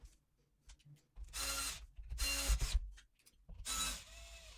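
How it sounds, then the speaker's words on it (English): Screwdriver driving the last screws into a Bang & Olufsen Beolab 2500 speaker during a damping material replacement, three loud bursts of ratcheting, whirring mechanical noise separated by short pauses, close up with no talk. "Take the screwdriver. And the last 3 screws need to install here,"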